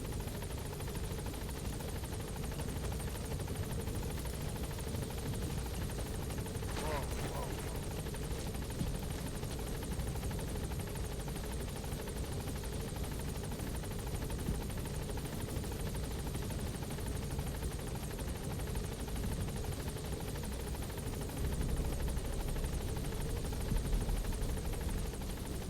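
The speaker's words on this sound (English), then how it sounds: "Support helicopter has arrived." The support helicopter in Metal Gear Solid V: The Phantom Pain hovers at a landing zone, a loud, continuous rotor whir and engine roar that stays steady throughout.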